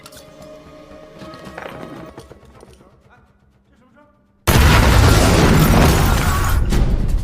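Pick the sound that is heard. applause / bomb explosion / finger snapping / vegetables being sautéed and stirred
bomb explosion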